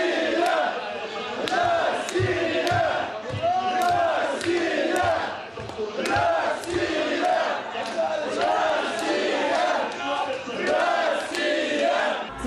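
A large crowd of hockey fans fills the city streets of Saratov celebrating Russia's championship win, chanting 'Russia' in loud, rhythmic unison with shouts and cheers, dense and continuous throughout.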